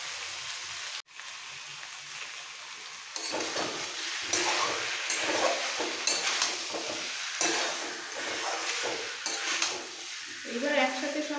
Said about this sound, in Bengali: এবার দিয়ে দেবো ম্যারিনেট করা মাংসগুলো।